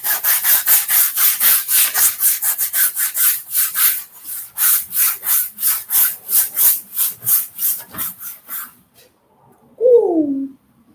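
Wood being ground through while a shield is built, heard as a rapid, loud, rhythmic rasping that slows into spaced strokes and then stops, followed by a brief dove-like coo.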